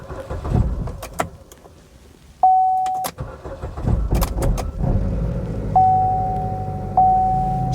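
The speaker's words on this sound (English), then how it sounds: "It cranked, stopped cranking," A 2012 Buick Verano with an intermittent no-crank fault, its starter cranking in short bursts that stop and start again, with clicks and steady electronic chimes from the dash between the attempts; no talk.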